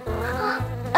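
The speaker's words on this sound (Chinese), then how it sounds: "城市里飞来了许多蜜蜂" A cartoon sound effect of a buzzing swarm of bees flying into a city, a continuous loud droning hum with no talk.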